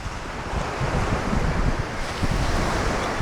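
Waves wash onto the beach at El Arenal, Mallorca, in a continuous roar of surf, heavily mixed with wind buffeting the microphone. No voices are heard.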